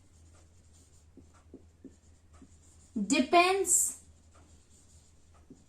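Scratchy strokes of writing on a board during a Class IX science lesson, a few soft taps scattered through quiet room noise, with a brief spoken word partway through.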